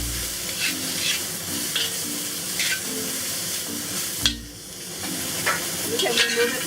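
Tofu and assorted mushrooms fry in oil in a pan with oyster sauce, giving a steady, close sizzle broken by scraping stirs and a sharp toss of the ingredients.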